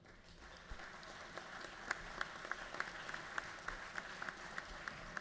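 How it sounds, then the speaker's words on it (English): Applause in the Georgia House chamber for a fraternity chapter president, a quiet, distant spatter of hands with a few sharper individual claps standing out over the room's hush. "will you please stand so we can give you a round of applause"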